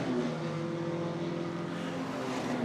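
A BMW M4 race car powers out of turn 3 on a race circuit, a steady distant engine drone with a sustained tone, fairly faint and without speech.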